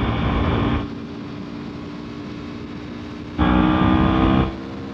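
A motorcycle engine fitted with a double-stage intake trumpet drones steadily up close, its tone swelling into a louder, harsher buzz in two distinct bursts.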